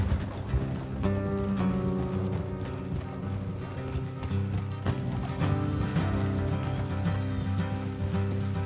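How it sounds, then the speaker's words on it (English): Horses clip-clop along a road in Red Dead Redemption 2, hooves beating a steady rhythm under a dense bed of music and ambience, with no voices over them. "Let's leave the horses here and go the rest on foot."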